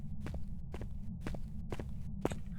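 Ghost footsteps at normal speed in the Phasmophobia horror video game, five evenly spaced muffled thuds walking at a steady pace over a low rumbling background hum, with no talking.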